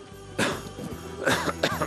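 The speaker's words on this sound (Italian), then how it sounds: "Ho un, po di, un, po di, tosse." Two or three close, harsh coughs, each a sharp burst, with a short gap between the first and the later pair.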